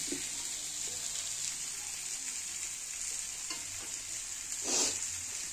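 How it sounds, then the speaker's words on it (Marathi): Fish fries in a pan on a gas stove, a steady close sizzle and crackle with occasional stirring or scraping sounds and a brief louder spatter near the end. "आणि मासा पूर्ण फ्राय झालेला आहे. दोन्ही गॅसवर ठेवल्यामुळे लवकर झालाय"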